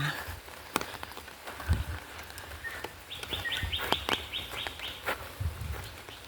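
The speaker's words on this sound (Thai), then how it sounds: "ฝนตกเปาะแปะเปาะแปะเอาความสดชื่นเอาฝากนะคะ" Light, irregular pattering of raindrops on surfaces by a river in Samut Songkhram, Thailand, with birds chirping in the background and a short run of rapid chirps midway.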